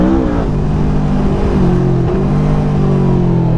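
Modified 200 hp Yamaha V-Max motorcycle accelerating hard up a steep hairpin mountain road, a loud continuous engine roar with rising and shifting pitch and rear wheel spin, heard close and alone.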